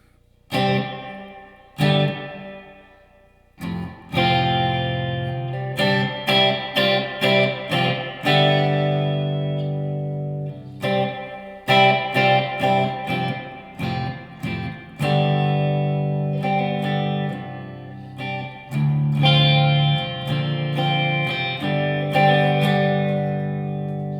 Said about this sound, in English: It's pretty good sounding reverb.